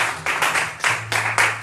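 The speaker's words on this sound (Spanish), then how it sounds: "denle un fuerte aplauso al Señor" A church congregation applauds in Spanish-language worship, with about six loud, close bursts of clapping in quick succession over a low steady hum.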